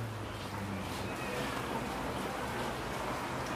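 Steady rain falls outdoors in a forest setting, a constant broadband wash with a low hum beneath, continuous and even throughout.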